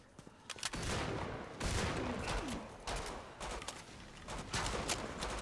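Dense, fast gunfire in the Killing Floor 2 video game, with rapid bursts of shots running almost continuously and brief pauses between volleys.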